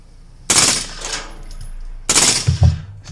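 A suppressed AR-15 rifle fires two short bursts about one and a half seconds apart, each a loud, sharp crack with a rapid rattling follow-up, heard close and without speech.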